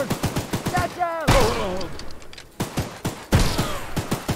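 Gunshots in the horror video game Choo Choo Charles, a quick run of sharp evenly spaced shots with louder bursts in between, mixed with a voice speaking.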